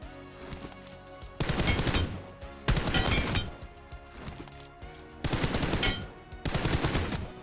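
Automatic gunfire from the mobile game PUBG Mobile comes in four loud, rapid bursts separated by short pauses, heard close over a low steady game background.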